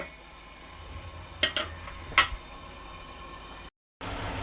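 Tomatoes fry in a pan for tomato rice, giving a steady low sizzle with a few sharp clinks of a utensil against the pan midway, then a brief cut to silence before the sizzle resumes.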